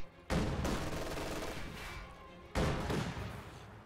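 T-70 tank gunfire in a strategy video game, two loud sustained bursts of rattling fire a couple of seconds apart, each fading slowly, dense and close with no talk.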